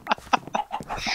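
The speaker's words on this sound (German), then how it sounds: "wer tötet, die Hühner?" Chickens in a Minecraft survival game give a quick series of clucks, several short bursts close together, fairly close and moderately loud, with no voices over them.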